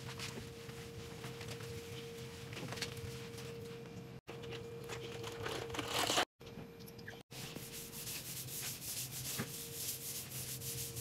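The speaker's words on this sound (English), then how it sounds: "If I feel it's not clean enough, I use the broom and scrub it with soap." A broom scrubs a soapy floor up close with continuous rough, rasping strokes. The sound breaks off briefly a few times and stays fairly quiet overall, with no speech.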